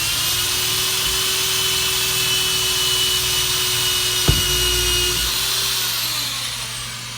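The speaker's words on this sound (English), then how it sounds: "you're gonna wanna drill in and drill out, but keep the drill going the entire time" A power drill runs continuously at a steady high whine while drilling holes, close and loud, with one sharp click partway through and the motor tailing off near the end; no talking.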